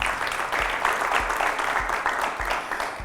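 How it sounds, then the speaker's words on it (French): Audience applause for a jury member being introduced on a French television talent show, a steady wash of clapping with a few low thumps, no voices over it. "Nous avons aussi Madame Begré, s'il vous plaît, sous vos applaudissements."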